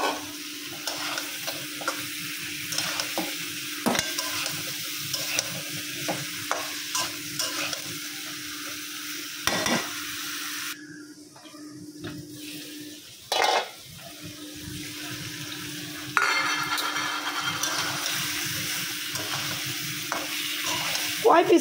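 Vegetables go into fried spice paste and are stirred in a pan, with a steady sizzle and intermittent scraping knocks, a constant hum beneath and a brief burst of running water, close by with no voices.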